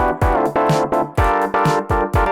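House-style part of rhythmic, punchy stabbed chords over a driving kick drum, played loud and close in a steady four-on-the-floor pattern.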